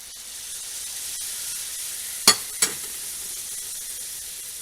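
Ladle of stock poured into risotto in a pan, giving a faint steady sizzle with two sharp, brief splashing clinks partway through; no talking.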